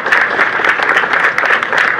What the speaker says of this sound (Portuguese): Queria pedir uma salva de palmas, são os proprietários do loteamento aqui Água Branca,